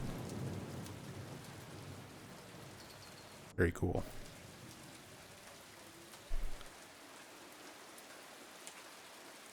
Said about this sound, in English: You can hear the chain link fence sort of blowing around and the rain hitting it and kind of clinking off of it